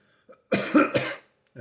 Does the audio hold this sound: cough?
yes